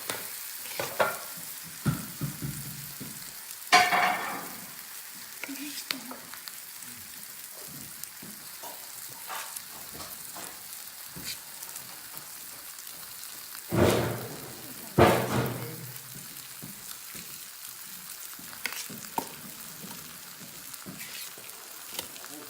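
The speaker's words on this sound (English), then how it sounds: "so we've got the quesadillas going" Smoked gouda, bacon, avocado and tomato quesadillas frying in a pan, a soft steady sizzle under occasional clatter of utensils and a few louder bumps, with faint talk in the background.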